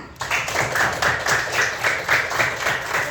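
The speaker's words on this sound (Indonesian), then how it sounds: "Tepuk tangan." Young children in a classroom clap their hands together for a group in a storytelling contest, a quick rhythmic burst of steady claps filling the room after a short pause.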